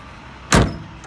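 Door of a 1972 Ford Bronco being shut, a single close, solid slam with a brief rattling decay against quiet background.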